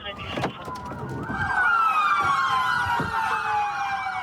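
Police car sirens wail in the video game Ready or Not, several overlapping rising and falling tones swelling loudly and continuously across the whole stretch.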